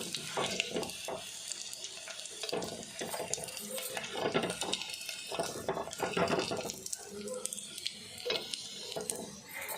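Ingredients for a dried fish and gongura curry frying in hot oil, a steady close sizzle with crackles and occasional stirring scrapes, no talking.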